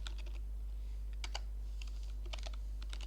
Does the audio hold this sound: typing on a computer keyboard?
yes